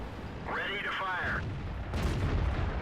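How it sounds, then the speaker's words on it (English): A World of Tanks tank takes a shell hit to its ammo rack, heard as a sharp, loud explosive boom after a wavering tonal sweep, over constant in-game rumble. "He's hit my ammo rack."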